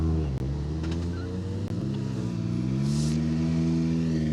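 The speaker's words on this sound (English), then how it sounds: "How good is it to hear a World Rally car?" A World Rally car engine at a Hills Ford 3 Shires Stages rally, a steady loud drone with a sustained rising and falling pitch, heard close and alone.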